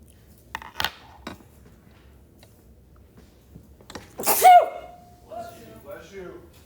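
A single sharp sneeze in a classroom during a math lesson, loud and close, followed by a voice speaking, with a few faint clicks and knocks earlier.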